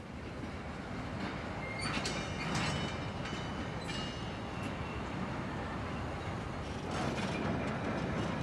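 A steady, grinding rail rumble from an LSWR G16 class 4-8-0 tank locomotive shunting heavy wagons over the humps at Feltham yard, with faint metallic squeals rising over a continuous, moderately distant roar.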